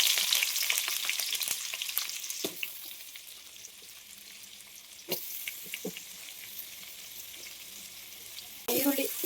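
Onions frying in about three spoons of hot oil in a pan, a steady close sizzle with a few sharp clicks and stirring knocks, louder at the start and swelling again near the end.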